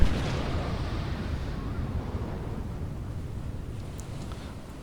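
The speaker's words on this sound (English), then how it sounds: "Let's fire turret A." A battleship's turret A fires in the naval video game Battleship Command, a single heavy boom at the start that rolls into a long, loud, low rumble and fades slowly across the clip, with no talking.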